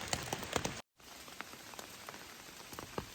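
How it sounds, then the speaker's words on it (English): Steady rain patters on a hiking trail shelter during a mountain trek, a soft, constant hiss with scattered close drips and taps, briefly cutting out before resuming. "We've been walking in a pretty steady rain all morning."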